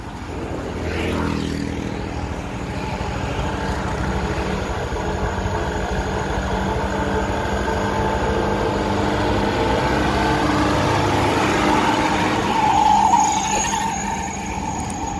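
A bus engine drones steadily on a road, with broad rumbling noise and a rising tone near the end; no voices.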